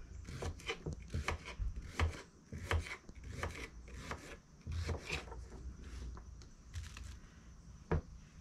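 Knife repeatedly chopping potatoes on a cutting board while preparing food for a crock pot, with a steady series of close, sharp thuds and a few louder strikes.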